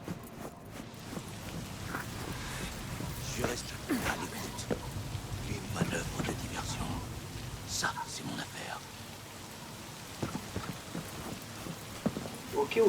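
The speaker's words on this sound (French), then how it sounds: "Mais il pleut" Rain falling in the video game Cyberpunk 2077, a steady patter of drops on hard surfaces with scattered sharper drip hits and a low rumble of distant thunder, while a voice talks over it at moments.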